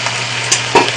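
Blanched udon noodles with squid stir-fried in a pan: a steady loud sizzle with a couple of quick stirring scrapes near the end.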